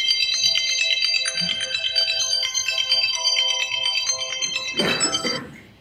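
A mobile phone ringtone plays a bright, repeating melodic pattern, loud and close during a city council meeting, then cuts off with a brief clatter as it stops.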